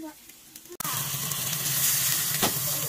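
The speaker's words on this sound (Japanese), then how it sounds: "ちっちゃいやつで焼き目つけるぜ。" Food searing in a small pan, with a sharp clatter as it goes in followed by a loud, steady sizzle and hiss heard up close.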